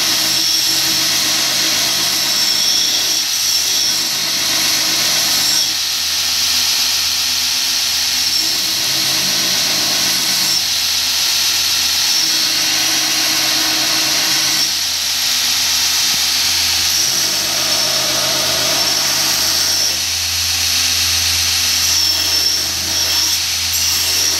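A grinder works a round bar knife, giving a loud, continuous high-pitched grinding hiss with a low drone that shifts slightly as pressure changes, and no talking.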